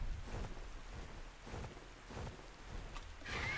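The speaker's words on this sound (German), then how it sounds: "weil es regnet." Rain falling in the survival game ARK: Survival Ascended, a steady wash of rain with pattering drops and a low rumbling undertone, continuous and even throughout with no voices.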